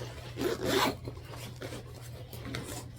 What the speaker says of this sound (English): The bottom part here, it unzips.